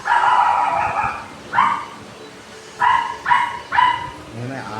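A dog barks close by, a few sharp woofs, then a pause, then three quick barks in a row.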